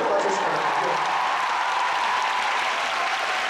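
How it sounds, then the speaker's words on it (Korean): Steady, sustained applause from a gala concert audience, dense clapping filling the whole stretch at an even, fairly loud level. "큰 박수로 맞춰주세요"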